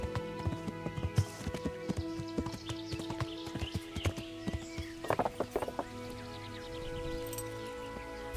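A horse in the medieval video game Kingdom Come: Deliverance, with a string of quiet hoof clip-clops in an uneven rhythm and a whinny partway through, alone over a low ambient game background.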